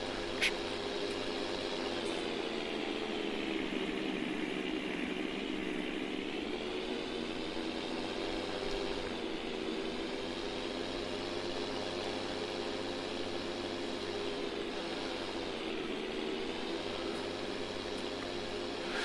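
Truck and tractor engines in a farming video game, a steady droning mid-pitched hum running unbroken, pitch sagging and rising slightly as revs shift, moderately quiet with no talking.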